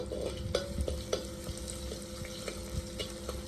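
Crushed garlic frying in a pan, a steady low sizzle with sharp clicks and scrapes from a stirring spoon at irregular moments, close and moderately quiet.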